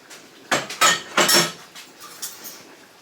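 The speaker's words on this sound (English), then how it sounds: "I'm going to get a little silicone scraper." A silicone scraper works pepper jelly out of a pot, giving a few short scraping and clinking strokes in a close, quiet kitchen.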